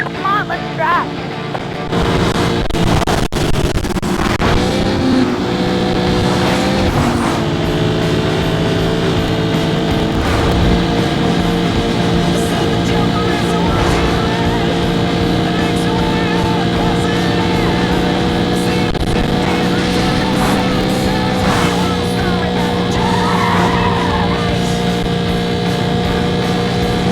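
Race cars in Need for Speed Carbon drafting close behind one another, engines droning loud and continuous with tonal whine and shifting pitch, game voices and effects mixed in.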